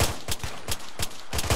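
Rapid rifle volleys from an eight-man infantry section in a military video game, five sharp broadband cracks at roughly steady third-second intervals, close and loud with no talking.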